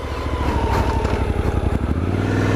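Engine note of a 2024 Suzuki DL-800 V-Strom on a break-in ride, heard through a helmet mic. It drones loud and steady, with a rising pitch sweep as it revs through the gears and a lower settled tone near the end.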